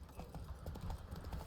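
Hooves of the horse Roach in The Witcher 3, a quick rhythmic clip-clop of galloping across ground, close and steady through the short burst.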